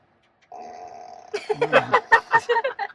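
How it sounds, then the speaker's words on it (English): Tesla Cybertruck fart mode plays a synthetic flatulence effect: a steady low buzz that breaks into a rapid run of rippling, sputtering pulses, loud and close, with no talking over it. "Of course, it has fart mode."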